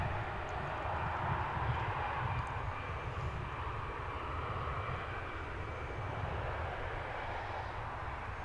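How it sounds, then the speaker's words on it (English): An American Airlines jet taking off at Dallas/Fort Worth (DFW) airport: a steady, broad engine roar heard at a distance, sustained and fairly faint, with no speech. "Here's the American flight going out to"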